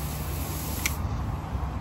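A spray bottle of cleaner mists a surface stained with leaf tannins, giving a steady close hiss that runs the whole time, with one brief sharper tick partway through.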